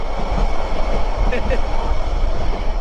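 The Cox's Bazar Express train rumbles steadily along the tracks nearby, a continuous loud roar with a brief higher screech partway through.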